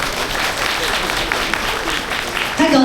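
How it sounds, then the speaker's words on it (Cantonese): A crowd at an installation ceremony for a car battery and tyre trade association applauds steadily and evenly, a dense wash of clapping, with a voice coming in at the very end. "熱烈掌聲繼續歡迎香港特別行政區政府機電工程署黃女助理"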